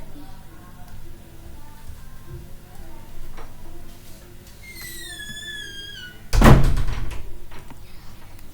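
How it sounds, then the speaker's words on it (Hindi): An interior door swings shut with a solid thunk, close and loud against a quiet room hum; a short high whistling tone drifts just before it, and no one speaks during the clip. "रुमैसा, ये मेरा दरवाज़ा बंद करो या आहिस्ता बोलो आप लोग।"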